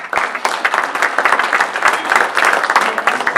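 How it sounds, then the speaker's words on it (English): Convention audience at a 2022 CTRA annual gathering breaks into steady applause, a loud, dense wash of many hands clapping close by for a few seconds, with no voice over it. "Hold on, I didn't have applause written on that part of my message, so thank you for that."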